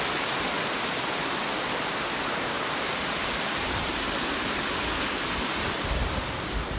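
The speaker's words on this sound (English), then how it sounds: "That's the edge of the waterfall." Steady, broadband roar of a waterfall in Krantzkloof Nature Reserve, KwaZulu-Natal, heard up close as a constant loud wash of falling water with no voices.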